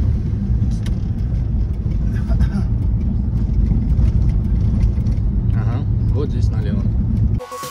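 A car pulling away and driving, its engine and road rumble loud and steady from inside the cabin, with people talking over the noise.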